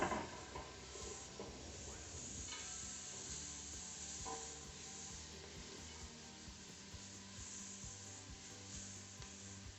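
Sliced leek and garlic sauté in a pot over medium flame, a soft continuous sizzle with faint stirring, fairly quiet and steady throughout.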